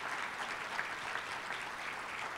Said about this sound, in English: I think Tim should get a round of applause for all that he did for City Square.